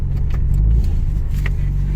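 A 1999 BMW Turbo M Coupe with an upgraded clutch and flywheel, warmed up, pulls away in first gear with a loud, steady low engine drone close by and no talk.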